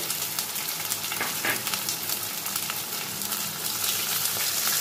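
Cumin and coriander paste sizzles in hot oil for a vegetarian soybean and pea dal kofta curry, with a steady, fairly soft crackle and occasional stirring scrapes.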